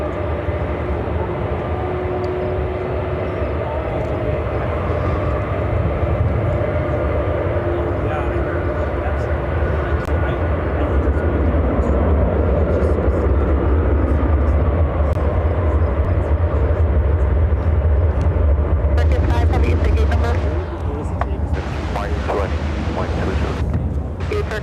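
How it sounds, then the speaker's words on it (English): A Lufthansa Airbus A350-900 arriving from Munich at Chicago O'Hare roars steadily, swelling in the middle before easing, with crackling bursts near the end over the constant jet noise. "Next arrival is Lufthansa 434 coming in from Munich on the A350-900."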